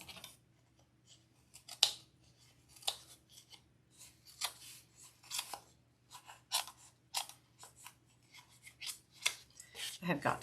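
Worn scissors, several years old, snip repeatedly through wreath material, giving sharp close cuts at irregular intervals with rustling handling of the material between them and no speech over them.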